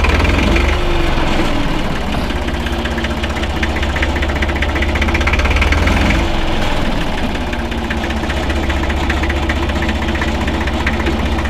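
A 1965 Deutz D 40 tractor runs while driving over hilly ground, its diesel engine chugging steadily and loud up close with a rough low knocking rhythm, no voices.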